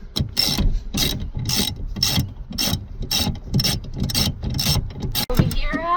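A 1/2-inch socket ratchet clicks in rapid repeated strokes while unbolting the rear seat bolts of a Dodge Ram 1500, close and crisp, ending with a sharp knock.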